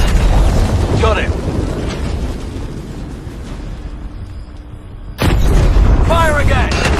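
Call of Duty: Infinite Warfare combat with booming explosions and weapon fire, a loud blast near the end cutting in over rumbling battle noise while voices are heard.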